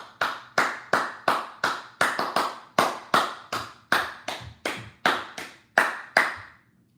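Hand clapping, about fifteen sharp, close claps in a loose rhythm with brief uneven pauses, heard alone without talk.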